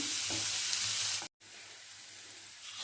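Mini stuffed snake gourds fry in hot oil with a steady close sizzle, broken by a brief cut to silence before the hiss resumes.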